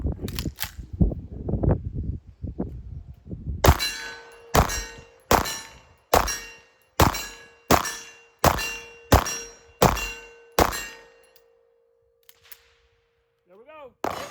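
A Bul Armory SASii Air 2011 pistol firing ten evenly spaced shots at 25-yard steel plates, each sharp report followed by a ringing metallic clang from the hit plate. Quieter handling noises come before the shots, and near-silence with faint sounds follows.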